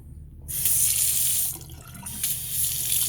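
A water tap in a rental property turns on after a short quiet moment, then water runs steadily and loudly into a sink, briefly shifting in tone midway.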